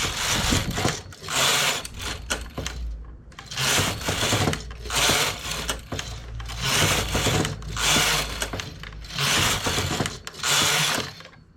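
A knitting machine carriage is pushed back and forth across the needles while working a raised pattern, giving repeated whirring, clattering passes of about a second each separated by short pauses.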